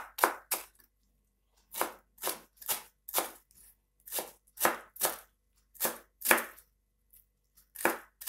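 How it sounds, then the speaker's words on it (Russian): A knife chops cilantro steadily on a cutting board, about a dozen sharp separate strokes with short pauses between them, close and clear, with no voices. "Нарезаем кинзу."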